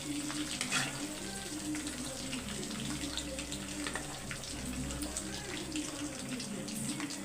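Marinated chicken, soaked about an hour in a spicy mix, fries in hot oil with a steady, dense sizzle and crackle that stays constant throughout, with faint background noise underneath.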